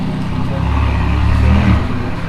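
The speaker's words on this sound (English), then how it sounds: "Oh, Ferrari." A Ferrari car engine rumbles and revs on a cold city street in Warsaw, Poland, a steady low, loud drone that swells slightly toward the middle and stays continuous throughout.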